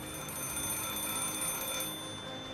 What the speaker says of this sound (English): The sound of the rain was unable to conceal the ringing phone.